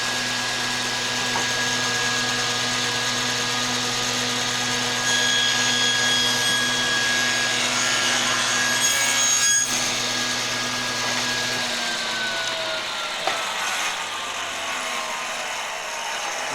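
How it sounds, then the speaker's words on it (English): A SawStop table saw with its blade tilted to 45 degrees and set low hums steadily and loudly while cutting a 3/8-inch-square wooden strip into a hexagon, with a faint blade whine that slowly tapers off near the end. "Got the table saw set at 45 degrees down low"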